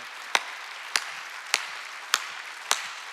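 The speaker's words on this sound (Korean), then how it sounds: "박수 쳐." A church congregation at a Sunday service claps in unison, five sharp, evenly spaced claps about half a second apart over a low background hum.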